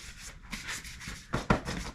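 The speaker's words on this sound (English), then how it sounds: "Let's get to sanding." Rhythmic rubbing strokes of sandpaper on a wooden axe handle, a steady back-and-forth scratching, close up, ending with a couple of sharper scrapes.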